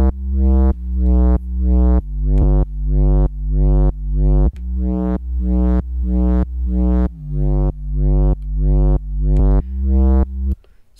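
Synth played through the CamelPhat 3.5 multi-effect plugin in Maschine with filter, LFO and distortion modules engaged, a loud bright buzzy note repeating in a steady pulse of short sweeping hits, about sixteen in a row, with no talking.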